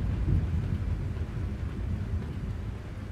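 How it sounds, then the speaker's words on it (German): Rolling thunder in Euro Truck Simulator 2 during rain, a deep sustained rumble, loud at first and easing slightly, with no talking. "da donnert es aber ganz schön"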